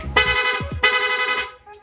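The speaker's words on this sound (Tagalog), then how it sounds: "Meron na rin po yung rapid horn." A loud, blaring motorcycle rapid horn sounds in two long sustained blasts, each about two-thirds of a second, separated by a brief break, close by.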